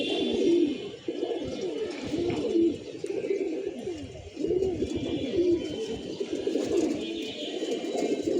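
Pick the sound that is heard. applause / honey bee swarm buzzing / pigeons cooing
pigeons cooing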